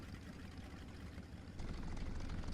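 The air-cooled radial engine of an La-5F fighter starts up cold in the video game War Thunder, a low, faint rumble that steps up louder about halfway through and then holds steady.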